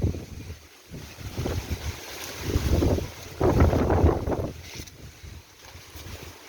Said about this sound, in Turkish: Lan rüzgar.